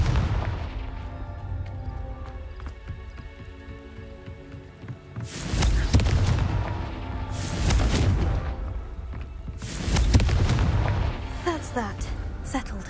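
Confringo spell blasts in Hogwarts Legacy burst out as three loud, crackling explosions a couple of seconds apart, each with a rumbling tail, over a busy game-ambience bed with some talk.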